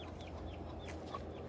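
A flock of backyard chickens clucks softly while pecking at homegrown watermelon, with a few short, faint calls scattered over a steady low background hum.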